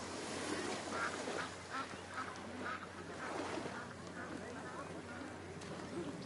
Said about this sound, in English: Is that a duck?